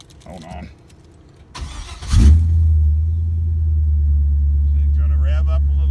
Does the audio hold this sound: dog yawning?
no